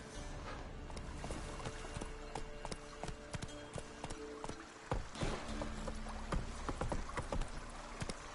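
Hooves of Roach, a horse in the video game Witcher 3, clopping along at a steady gallop, a quick rhythmic series of thuds with faint clatter and a low background bed.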